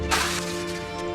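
Bombarda blasting spell cast in Hogwarts Legacy, a sharp shattering burst followed by a ringing, tonal magical shimmer that sustains and fades over about a second.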